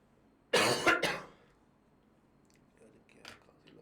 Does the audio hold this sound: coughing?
yes